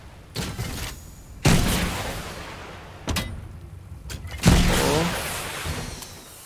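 Gunfire in the Fortnite video game: about four loud, sharp bursts with ringing, decaying tails, spaced a second or two apart and heard without speech.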